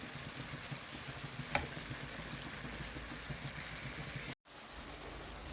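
Onions frying in a pan for hawawshi, a soft continuous sizzle with faint hiss and a brief clack partway through, no talking.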